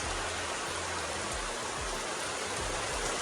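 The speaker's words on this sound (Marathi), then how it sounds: "जोरात आलो पाऊस" Heavy rain pours steadily in a Konkan village, a dense continuous hiss with no pauses and no voices.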